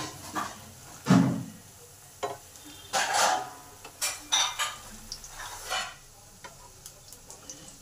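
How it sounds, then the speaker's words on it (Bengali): Fish roe fritters sizzling in hot oil as a spatula turns them over, scattered scraping and clinking strokes rising over a low continuous fry, close by and fairly loud in bursts. "ডিমগুলোকে উল্টে পাল্টে ভালো করে ভেজে নিতে হবে।"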